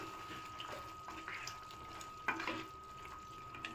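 Chicken curry being stirred with garam masala, coriander powder and kasuri methi in a pan, giving soft, quiet scraping and a faint sizzle with a couple of sharper clinks.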